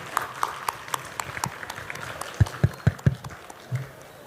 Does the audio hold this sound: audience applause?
yes